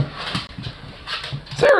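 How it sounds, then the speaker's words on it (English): A dog barks and whimpers a few times at moderate distance, with short muffled yips rising to a louder outburst at the end; no speech. "Damn dog!"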